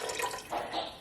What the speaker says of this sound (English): I'm going to actually pour some apple cider vinegar in it.